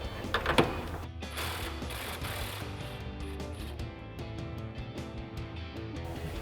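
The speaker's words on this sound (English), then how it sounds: "you may need to grab a 15 mil wrench for the back side of these bottom bolts" A 15 mm wrench works the bottom exhaust bolts on a Corvette, giving close metallic ratcheting clicks and clanks in quick irregular bursts.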